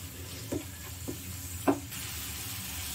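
Masala sautéing in oil for turkey berry kulambu gives a faint, low sizzle in the background, broken by three soft scraping stirs of a spoon in the pan.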